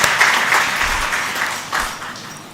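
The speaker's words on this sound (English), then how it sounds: "Can we give them a big round of applause to these as well to express our gratitude to them?" A college convocation audience gives a brief burst of applause, a loud, full crowd clapping that swells and then tapers off over a couple of seconds.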